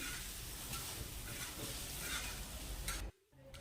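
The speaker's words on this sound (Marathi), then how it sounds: "आणखी थोडा वेळ कांदा हा भाजून घेऊया" Chopped onion sautéing in a pan for egg tawa masala, cooked just until lightly coloured: a steady, close sizzle with stirring throughout that briefly cuts out near the end before resuming.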